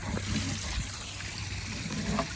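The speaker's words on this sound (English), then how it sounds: "We got a waterfall." Water from a pond fountain waterfall trickles and splashes in a steady, continuous wash close by, with no pauses and no voices.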